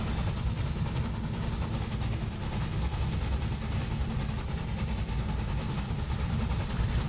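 Steady, continuous rumble of trains running on a railway in Railway Empire, coffee trains in a Mexico scenario, a dense even low roar with no voices.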